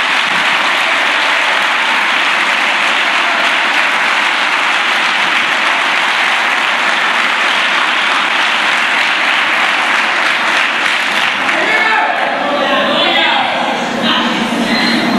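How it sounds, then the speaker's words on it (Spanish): A church congregation claps long and loud during a sermon, a dense sustained wall of applause that thins near the end as scattered voices and calls break through. "Denle un aplauso al Señor."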